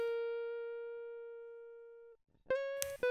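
A clean guitar counter-melody played through a jazz amp with a light EQ and Valhalla reverb: one long sustained ringing note fading slowly, a short gap, then a few plucked notes close and clear.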